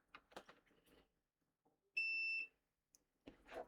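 A multimeter gives a single short, clean continuity beep while checking a transistor for an emitter-collector short on a JVC FX 333L tuner circuit board, with faint handling noises just before and after.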